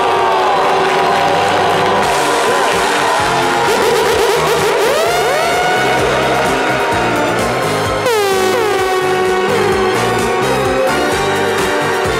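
Crowd welcoming slam world champion Noférima Fofana onto a live TV show stage, loud cheering and applause mixed with air-horn blasts and music, sustained and dense for the whole stretch.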